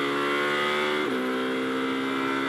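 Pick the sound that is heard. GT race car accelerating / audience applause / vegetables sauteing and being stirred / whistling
GT race car accelerating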